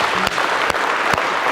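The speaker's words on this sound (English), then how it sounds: "I'm gonna clap my hands, you'll clap with me." Steady applause from a crowd, a dense wash of clapping that holds at an even level throughout with a few sharper individual claps standing out.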